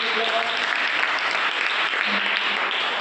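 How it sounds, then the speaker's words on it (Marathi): Classroom children applauding together, a steady, dense clapping that holds at even loudness for about three seconds, close and filling the room. "टाळ्या वाजवायच्या."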